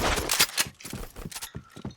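Rapid gunfire in the Point Blank shooter game, with a quick run of loud, close shots and sharp bursts fired in succession over a couple of seconds.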